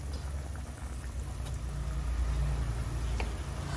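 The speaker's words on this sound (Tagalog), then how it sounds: "kumukulo na ang ating sinigang." Sinigang soup boiling steadily in a pot, a continuous low bubbling rumble with faint scattered pops, no voices.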